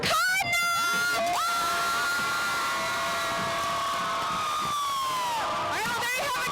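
High school student section cheering for the Cardinals at a Davison versus Flint Northwestern football game, a loud sustained roar of screaming and yelling voices that swells and holds for several seconds.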